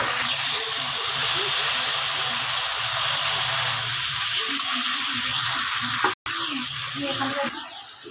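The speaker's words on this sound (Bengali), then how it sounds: "এবার আমি এই মশলা বাটাটা দিয়ে একটু নেড়ে চেড়ে জল দিয়ে দেবো।" Mustard spice paste frying and being stirred in a pan for Bengali bhola fish in mustard sauce, a loud, steady sizzle with soft, repeated stirring scrapes underneath and a brief dropout near the end.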